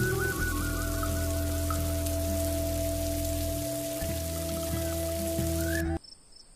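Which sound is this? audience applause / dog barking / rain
rain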